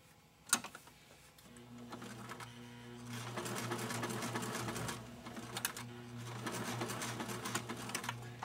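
Sewing machine back-stitching the thumb of a fabric doll: a quiet snap, then a steady mechanical whirr in short runs with brief pauses, faint and close.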